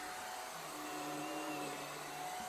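Shark Rocket stick vacuum running steadily under a couch, a close, continuous motor whine with a constant airy roar and no break over the short stretch.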